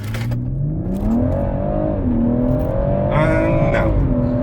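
A black 2018 BMW M140i Shadow Edition with an automatic gearbox accelerates hard from 0 to 60 in Sports Plus mode, its engine note rising loud and close through several gear changes.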